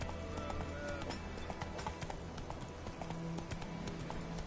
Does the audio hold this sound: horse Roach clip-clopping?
yes